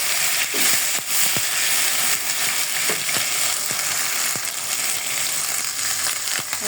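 Black pepper, cardamom and cinnamon sizzle loudly in a pan with ginger garlic paste, a steady close frying hiss broken by occasional sharp scrapes and stirs.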